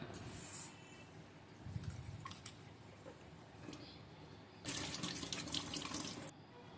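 Rice is washed under a running kitchen tap: a faint, steady stream of water with louder gushing swells and small clinks from the vessel, and no talk.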